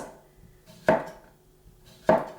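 Two sharp knife cuts through homegrown garden tomatoes for a side salad, about a second apart, close and crisp against a quiet background with no talking.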